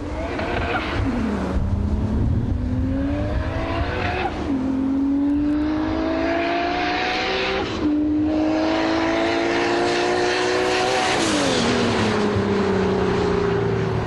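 Engine of a thoroughly modified single-turbo Toyota Supra revving loudly and continuously, pitch climbing through repeated rising sweeps and dropping between them, with wind buffeting and no talk.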